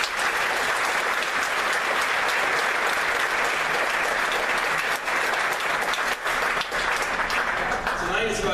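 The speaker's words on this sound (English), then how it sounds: "just another round of applause." Loud, sustained applause fills the hall at a senior awards ceremony for student athletes: a dense, continuous wash of clapping that ends as a voice starts.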